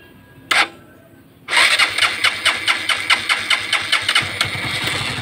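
A Honda TMX Supremo 150cc motorcycle is started: a short crank, then the single-cylinder engine catches and settles into a loud, steady thumping idle close by.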